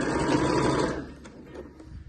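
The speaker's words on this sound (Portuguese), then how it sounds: "Vai costurando toda a circunferência." A sewing machine runs in a steady loud whir, stitching a gathered ruffle around a festa junina skirt, then slows and drops to quieter, scattered mechanical ticks.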